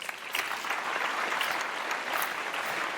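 A church congregation applauds during a sermon, a soft, continuous patter of many hands clapping, distant and low in level, with no voices on top.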